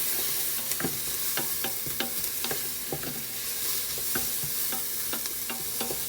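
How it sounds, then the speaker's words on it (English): Garlic being stirred in a pot for chicken noodle soup, a steady low sizzle with repeated sharp clicks and scrapes of the spoon against the pot. "just going to give that a stir"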